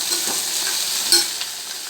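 Okra sizzles steadily in hot oil while it is stirred in the pan, a close, continuous crackle with faint scraping touches.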